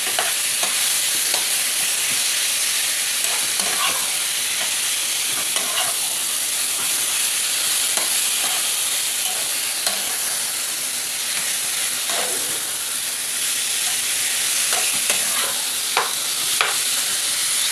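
Chicken pieces stir-fried for Bengali mangsho kosha sizzle loudly and continuously in a pan, with frequent spatula scrapes and stirring knocks throughout and no talking.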